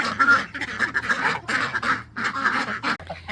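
Ducks quack close by in a rapid, overlapping burst of nasal calls, several birds sounding at once in uneven rhythm with brief pauses.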